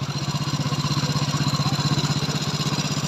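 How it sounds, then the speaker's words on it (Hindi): A Hero Passion Pro i3s motorcycle engine running at a steady idle with an even, rapid thumping pulse, close up and loud, with a faint metallic rattle from a worn timing chain. "देखें कैसे इंजन से साउंड आ रहा है"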